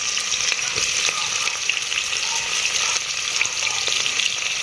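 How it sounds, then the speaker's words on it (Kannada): Long-cut onions frying in hot oil on a high flame for egg biryani, a loud, dense, continuous sizzle and crackle that stays steady throughout with no voices. "ಈಗ ಉಳ್ಳಾಗಡ್ಡಿ ಒಂದ್ ಸ್ವಲ್ಪ ಕೆಂಪು ಆಗೋ ತರ ನೋಡ್ರಿ ಎಣ್ಣೆ ಒಳಗ ಇದ್ರ ಫ್ರೈ ಮಾಡ್ಕೊಳ್ಳೋದ್ರಿ"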